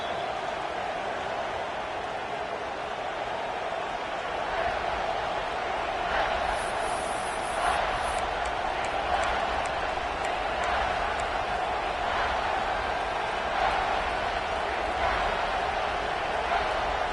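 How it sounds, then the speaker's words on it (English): A football stadium crowd keeps up a steady, dense roar from start to finish, with brief swells of cheering and shouts rising out of the broad wash of noise. "This crowd rising"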